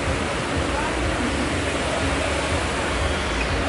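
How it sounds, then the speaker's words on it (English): Water splashing from a Las Vegas fountain, a steady, broad rushing hiss that stays constant and close throughout, with no pauses. "Look at the beautiful fountain."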